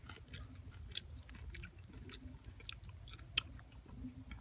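Someone chews and bites small, thin-skinned kumquats, with soft, close crunching and wet mouth sounds in an irregular rhythm, plus a sharp bite near the end. Nobody speaks.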